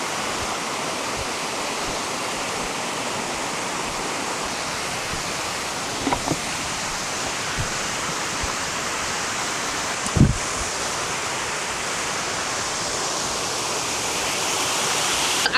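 An outdoor waterfall rushes in a steady, broadband roar that fills the whole span, with a couple of brief nearby knocks and rustles over it and no talking.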